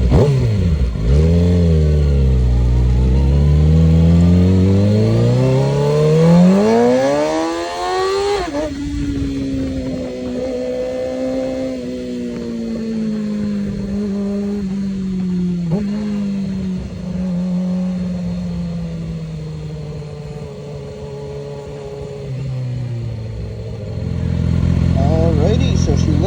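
A Kawasaki Ninja ZX6R engine screams up through the revs, its pitch climbing sharply, then drops into a long, steady high drone with smaller surges as it accelerates, loud and close, with brief stretches of voice over it.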